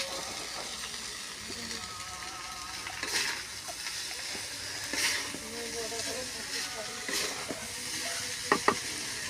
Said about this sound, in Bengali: চাউমিনটা ভালো করে নেড়ে নেব।